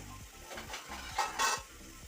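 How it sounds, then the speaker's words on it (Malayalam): Squid and onions sizzle in a pan for squid thoran while a utensil stirs them, giving a steady frying hiss broken by several quick scraping strokes, close and clear with no talk. "നമുക്കിതിലേക്ക് ഇനി വേവിച്ച് വെച്ചിരിക്കുന്ന കണവ അഥവാ കൂന്തൽ ഇട്ട് കൊടുക്കാം"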